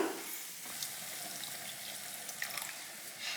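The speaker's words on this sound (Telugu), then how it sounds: "ఇప్పుడు ఇందులో అయితే కొన్ని వాటర్ వేసుకుందాము" Water is poured into a pan of paneer curry on the stove, a faint, steady splashing hiss with small drips and bubbling.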